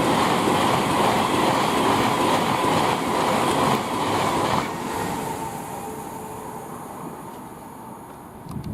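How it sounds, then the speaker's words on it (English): A Class 390 electric train on the West Coast Main Line at Tamworth, running from Manchester Piccadilly to London Euston, passes close by with a loud, steady rush and rumble that gradually eases off as it goes. "we've got a Class 390 heading from Manchester Piccadilly to London Euston"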